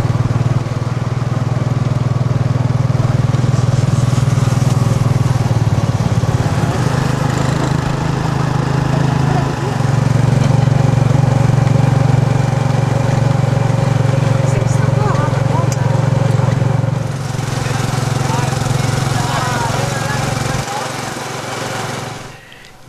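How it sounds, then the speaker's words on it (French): A tuk-tuk carries riders through Phnom Penh at night, its small engine droning loudly and continuously close by, with the rumble of surrounding city traffic. "découverte du Phnom Penh nocturne en tuk-tuk"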